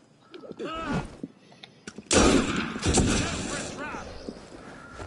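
Gunfire from Assassin's Creed Unity: a sudden loud burst of shots and clatter erupts midway, following quieter game sounds, with a voice talking beforehand.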